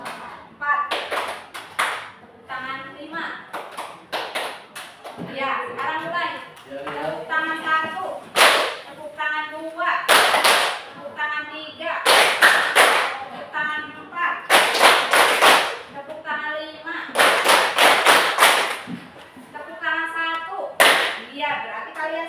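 A class claps hands in an ice-breaking pattern, sharp bursts of one to five claps in groups alternating with a teacher's voice calling out the counts, loud and close in a classroom.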